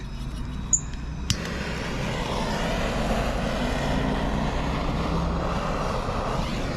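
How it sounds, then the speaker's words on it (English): A small handheld propane torch burning in a winter vegetable garden, a steady, close, roaring hiss that holds evenly throughout, preceded by a couple of sharp clicks at ignition. "all I need is my little trusty propane torch"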